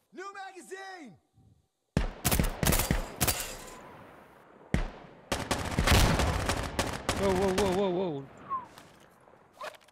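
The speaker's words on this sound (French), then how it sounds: "il me tire dessus" Gunfire in the tactical shooter Insurgency Sandstorm, played on the ISMC mod in hardcore co-op: loud, sharp shots and bursts of varying spacing, broken by a brief silence, with voices talking in between.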